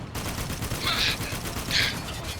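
Bursts of automatic gunfire rattle in the video game Spec Ops: The Line, dense and continuous, with a couple of louder volleys standing out over the chaotic battle din.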